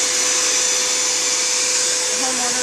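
A loud, steady vacuum cleaner roars continuously with a high-pitched whine, close by and unbroken throughout, during removal of a bee colony from a wall in winter.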